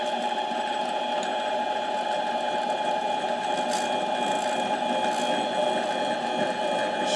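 A Harbor Freight mini lathe cuts a bushing made from a fitting, taking light passes; the motor and spindle give a steady, close whine with a faint hiss and no talking.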